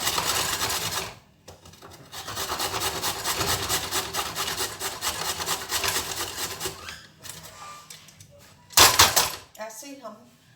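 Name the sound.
grating carrots on a grater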